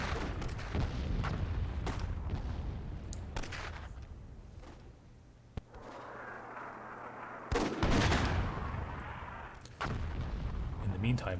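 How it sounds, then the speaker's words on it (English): Rocket-propelled grenade blasts in the fantasy strategy game Myth II: Soulblighter, a string of sharp booms and thuds from a team attack on a hill, with a louder cluster of impacts partway through. "HMP sneaking around, lobbing some RPGs at the purple team's hill"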